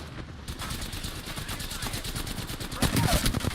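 Rapid automatic gunfire in the Halo video game rattles continuously, a dense stream of shots that grows louder near the end.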